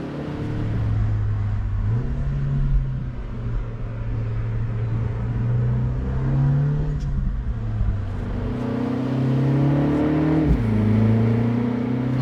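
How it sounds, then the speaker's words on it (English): MINI John Cooper Works convertible with a 2-liter turbo engine driving a winding mountain road, its note rising and falling through gear changes in a continuous close drone; distinct pops and burbles are hard to pick out. "the pops and burbles of the John Cooper Works 2-liter turbo"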